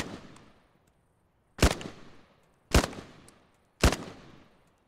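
Gunfire in Arma 3, a faint shot first and then three loud, sharp reports about a second apart, each one trailing off in a short echo.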